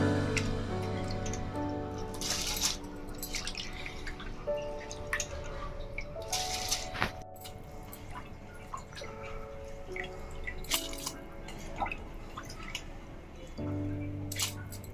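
Soaked basmati rice pours into simmering coconut milk for biryani, giving wet squishy splashes and dripping over a steady bubbling background, close and fairly quiet.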